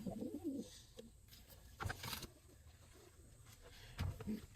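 Pigeons, males and females paired together in a loft, give low, throaty coos in short bursts near the start and again near the end, with soft rustling and clatter between.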